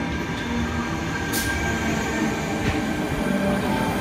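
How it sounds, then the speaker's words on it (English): An 8-car Tangara commuter train pulls into Eastwood station in Sydney, a steady loud rumble of rolling wheels and carriages filling the platform, with a brief squeal partway through. "Tangara, 8 car Tangara pull again."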